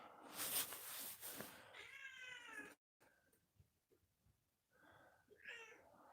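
A cat on a farm meows in a drawn-out, strained call, then gives a second, shorter meow after a brief pause. Both are close and fairly loud over rustling handling noise.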